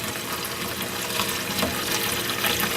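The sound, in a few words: vinegar poured into container over hatchet head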